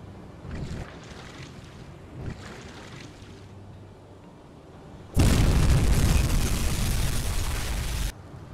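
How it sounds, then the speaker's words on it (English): Torpedo explosion in the UBOAT submarine video game: after quiet underwater ambience with faint thuds, a loud broad roaring blast erupts and holds for about three seconds before cutting off. "let's fire that torpedo"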